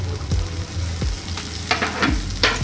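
Chopped tomato and onion frying in a pan for yogurt katla curry, a bright sizzle broken by several sharp scraping stirs of a spatula, close and without speech.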